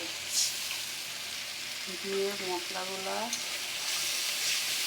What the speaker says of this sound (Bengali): এবার মশলাগুলা তেলের ওপর দিয়ে দেব। মশলাগুলা ভালোভাবে কষাবো